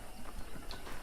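Horse hooves clip-clop steadily in Red Dead Redemption, a quick close rhythm of hoof strikes over a busy game soundscape, with no one talking.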